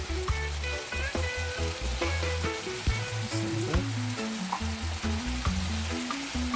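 Peppers added to a pot of Jamaican rundown mackerel bring on a dense, steady sizzle and crackle with intermittent stirring clatter, close and fairly loud throughout.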